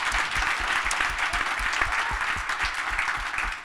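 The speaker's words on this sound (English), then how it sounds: "I do want a round of applause for the deputy mayor for that" A room full of people at a civic talk applauds the deputy mayor, a dense, even burst of clapping that holds steady for a few seconds.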